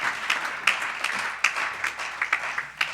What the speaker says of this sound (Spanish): vamos a dar un fuerte aplauso a Dios mientras él viene y se prepara